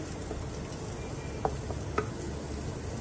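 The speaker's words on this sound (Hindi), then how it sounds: "इसको अच्छे से हमने फ्राई कर लेना।" Chicken frying in a pan gives a steady, soft sizzle and crackle with a couple of small pops, heard close and alone.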